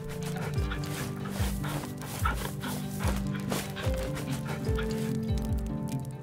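Puppy in The Red Lantern game being petted, with repeated short yips and bow-wow barks near and clear over a steady game music bed, roughly every second or so.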